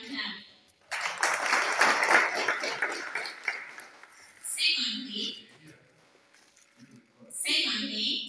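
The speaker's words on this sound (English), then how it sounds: "Let us join our hands together to give Him a mighty hand clap." Audience hand clapping at a primary school event, a burst of applause swelling and holding for several seconds, then fading as someone speaks, with a second short round rising near the end.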